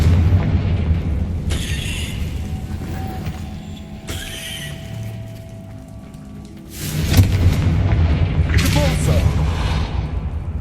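Confringo fire spell explosions in Hogwarts Legacy, loud bursting blasts at intervals with a whooshing flare, set among game ambience, horse whinnies and a spoken voice.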